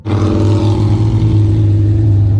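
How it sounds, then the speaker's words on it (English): A drag race car accelerates hard from close by, its loud, deep, sustained engine roar holding steady at full volume for the whole short burst. "That was a drag race."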